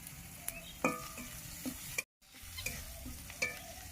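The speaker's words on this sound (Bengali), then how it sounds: "সেই থেতো রসুনটা আমি এর মধ্যে দিয়ে দিচ্ছি।" Crushed garlic hits hot oil with frying onions in a pan, giving a steady sizzle broken by a few sharp stirring scrapes and clicks, close up, with no voices.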